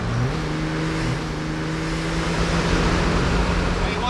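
A Ram diesel pickup tuned for high power, fed with propane and nitrous, drones loudly as it accelerates along a street, a steady low engine roar throughout with talk over it.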